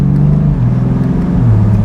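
A BMW Z4 M40i drives with its roof open, and the exhaust gives a continuous, close engine drone whose pitch shifts slightly as it pulls along.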